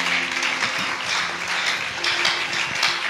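A church congregation applauds and cheers in praise of the Lord at a Sunday service, dense steady clapping mixed with voices calling out, loud and continuous throughout.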